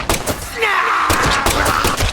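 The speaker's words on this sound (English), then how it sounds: "the sound for explosion stacks in this game, so you get some really loud explosions if they overlap." Overlapping explosions in the Deadly Premonition 2 video game land as a string of loud, booming bursts, several stacking close together with a brief whining tone between the blasts.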